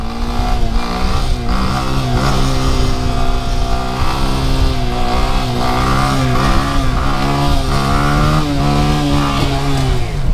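A motorcycle engine screams loudly and continuously up close during a wheelie, revving hard and bouncing against its limiter with a choppy, stuttering edge.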